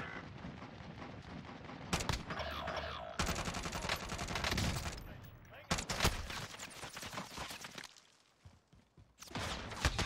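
Gunfire in the Warzone video game comes in several loud bursts and rapid volleys with brief pauses between them, and players talk over the shooting.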